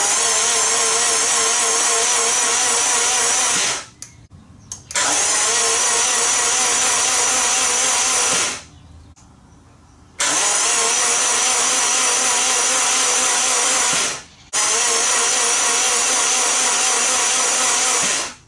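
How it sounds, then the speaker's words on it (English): The starter motor of a Peugeot AWD turbo rally prototype cranks the engine over in four long, loud, whirring bursts of several seconds each, with short quiet pauses between them and no voices. "I want to see if the engine turns over now I've charged the battery."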